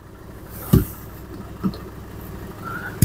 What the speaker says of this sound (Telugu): చూసుకోండి, ఇంజన్ సౌండ్ అనేది మీకు తెలుస్తూ ఉంటుంది